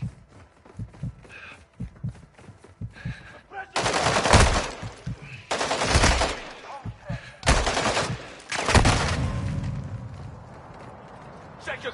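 Sustained suppressing gunfire in the video game Call of Duty DMZ, with rapid automatic bursts rattling loudly in several volleys, interspersed with shouting voices and quieter gaps.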